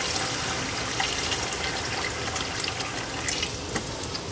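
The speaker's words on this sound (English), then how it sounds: "So I'm just going to add a little bit more hot water." Hot water pouring steadily into a canning pot of jars, a loud continuous rushing splash lasting several seconds with faint drips, no talking.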